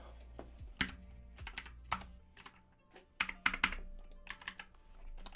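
Keys clatter on a computer keyboard in quick, irregular bursts with short pauses between, fairly close and quiet, nobody talking.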